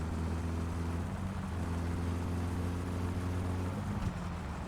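Steady engine drone of a car driving in the My Summer Car video game, a low, even hum with harmonic layers, continuous and moderately quiet with no voices.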